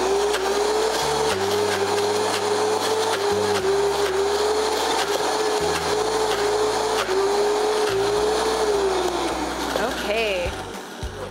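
A blender whirs steadily and loudly, chopping soaked cashews with olive oil into a dip; the motor tone shifts as the load changes, and a voice talks over it near the end.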